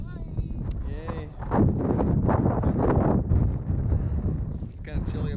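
Wind buffeting a microphone on a chilly, windy hilltop on the Isle of Skye, a constant gusty rumble that surges and eases, with voices talking over it.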